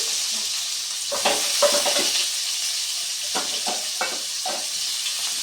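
Potato and onion frying in oil tempered with black cumin give a steady close sizzle, broken by several bursts of spatula stirring and scraping against the pan.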